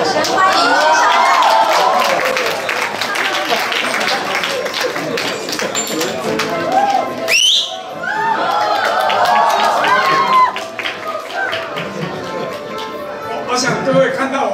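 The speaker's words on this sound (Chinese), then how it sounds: "请大家以热烈掌声欢迎薛校长。" At a university catwalk show, the crowd claps and cheers to welcome the principal with loud, dense applause. Excited voices mix in, and the noise briefly dips midway before picking back up.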